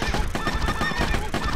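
Horses neigh and whinny repeatedly in the Medieval Defenders tower defence game, loud and dense throughout, layered over a constant wash of game sound with hooflike clatter underneath.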